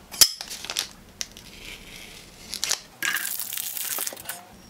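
Packaging for a diamond hand pad used to clean up cut tile edges is torn and crinkled open at close range, with a sharp snap near the start and a louder crinkling rustle in the final seconds.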